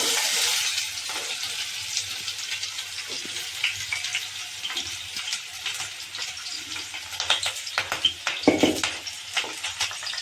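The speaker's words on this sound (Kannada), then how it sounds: "ಇವಾಗ ಎಣ್ಣೆ ಕಾದಿದೆ. ಹಸಿಮೆಣಸಿನ್ಕಾಯಿ, ಈರುಳ್ಳಿ ಹಾಕ್ತಾ ಇದ್ದೀನಿ ನಾನು." Green chillies and onions drop into hot oil and fry with a loud burst of sizzling at the start, followed by ongoing crackle and spatter with a few stirring scrapes.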